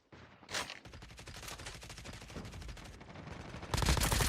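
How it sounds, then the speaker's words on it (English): Grenade blasts in a competitive video game match: a sharp burst near the start, then a run of rapid crackling bangs, ending in a louder, denser explosion near the close. "Here comes the nades."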